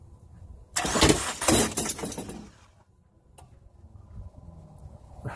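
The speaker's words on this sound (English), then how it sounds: "crank it over so it disables the injectors so it won't start, and we'll watch our compression" A 2005 Dodge Neon with a 2.0L engine and a bad head gasket cranks over with its injectors disabled for a compression test, a loud rough burst of starter churning for about two seconds, then quieter mechanical sounds with a few sharp ticks.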